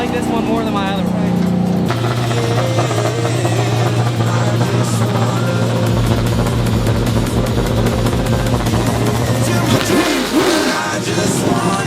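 A race car engine at Dominion Raceway revs loudly in rising and holding tones, shifting pitch as the throttle is pushed, close by, with people talking over it.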